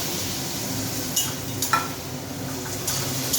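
Boiled chickpeas tipped into a pan and stirred, a soft steady sizzle beneath a few light scrapes and taps of a spoon against the pan.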